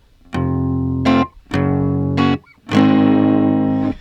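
Distorted electric guitar through a fuzz pedal with a gritty tone, playing three sustained, buzzing notes separated by short pauses, loud and close.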